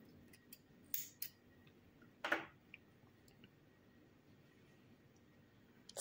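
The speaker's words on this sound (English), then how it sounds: "you can cut the yarn." Scissors snip through crochet yarn while making amigurumi cherries, giving a few short, crisp close-up cuts spread over several quiet seconds.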